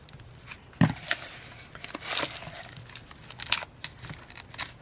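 Scissors snip through fabric and tape in a journaling craft session, with several short, crisp cuts and rustling of material between them, quiet and close.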